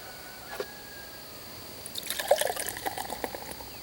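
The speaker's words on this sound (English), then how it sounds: "So we're going to pour these off in a mug" Troegs Perpetual Haze hazy IPA beer poured into a mug, a short trickle at first and then a livelier splashing, fizzing pour toward the end, close and fairly soft.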